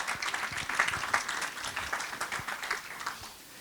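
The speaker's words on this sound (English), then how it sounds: "I think he deserves a special applause." An audience at a lecture event in Sweden applauds a speaker, a soft, fairly distant ripple of many hands clapping that fades toward the end.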